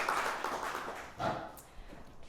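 An audience claps to welcome a young speaker to the stage, a moderately faint, uneven patter of applause that swells briefly and then thins out.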